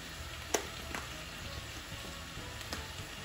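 Spinach cooks in a pot with smoked fish and beef, giving a soft continuous sizzle and bubbling with a few sharp pops and clicks, faint and close.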